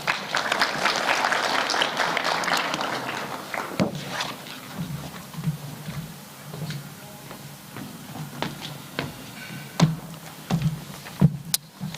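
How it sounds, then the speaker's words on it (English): Applause from a conference audience at a BRICS Africa trade and investment event fills the hall at first, then thins into scattered claps and shuffling movement. "Can we give Ndate Muller another round of applause?"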